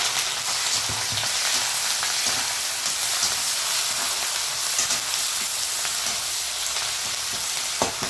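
Curry leaves frying in hot oil for a crisp thin-poha chivda, with slices of coconut fried alongside; a loud, steady, close crackling sizzle that runs unbroken throughout.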